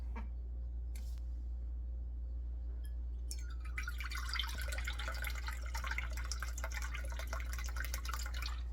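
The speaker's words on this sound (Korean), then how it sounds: "멸치 액젓을 100ml만 넣을 거예요." Anchovy fish sauce is poured into a kimchi seasoning mix. A faint tap or two comes first, then a steady close trickle of liquid runs over a constant low hum, with no speech.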